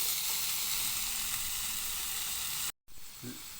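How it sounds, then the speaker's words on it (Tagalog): Bitter gourd (ampalaya) hits a pan with sautéed shrimp paste and tomato and sizzles in a bright, steady frying hiss, briefly cut off before the sizzle resumes more softly with light stirring. "Ilagay na natin na yung ampalaya."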